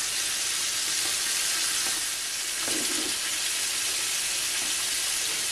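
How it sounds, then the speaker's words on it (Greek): Liver frying in a pan, a steady broadband sizzle holding at an even level throughout with only slight shifts in intensity. "Ξεκίνησε το τηγάνισμά μας."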